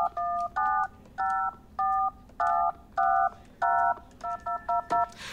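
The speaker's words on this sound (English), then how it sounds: "It gets boring between calls, so I make phone music." Telephone keypad tones are punched out in a rhythmic sequence to make music, with about a dozen clear beeps in short phrases ending in a quick run of presses.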